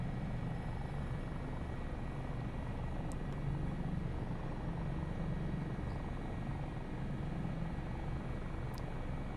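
A simulated Dolphin helicopter in Microsoft Flight Simulator 2020 flies near Mt Hood, its engine and rotor a loud, steady, unbroken low drone and whine throughout.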